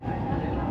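Renfe AVE high-speed train running near the Pyrenees tunnel on the line between France and Spain, a steady close rumble of wheels and cabin noise heard from inside, continuous and fairly loud throughout the short moment.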